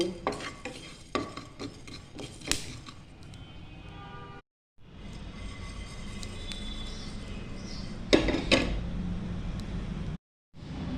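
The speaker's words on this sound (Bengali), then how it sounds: "এই মশলাগুলোকে শুকনো করে ভেজে আমি গুঁড়ো করে নেব" Whole cumin, coriander seeds and whole garam masala dry roasting in a pan, heard as steady scraping and stirring with soft crackle and clinks of a utensil, broken by two brief silences.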